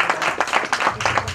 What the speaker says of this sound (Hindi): नैन्सी के लिए भी ज़ोरदार ताली हो जाए।